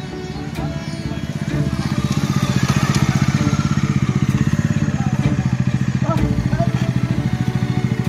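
Motorcycles of a group of riders on an Independence Day ride arrive at a scenic stop near Chawmanu waterfall, with loud, close, steady pulsing engine rumble that swells and holds; people talk faintly in the background.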